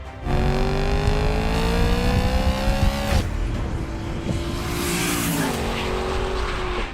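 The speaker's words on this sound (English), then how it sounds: "a loud, high-revving V8 engine called the S65 V8" A loud BMW S65 V8 engine in an E9X M3 revs hard, its pitch climbing steadily, then briefly dropping before rising again; close and continuous with no talking.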